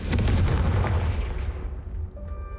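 Confringo fire spell cast in Hogwarts Legacy, hitting a brazier: a loud booming blast up front that rolls off into a long fading decay, with a faint tonal ring near the end.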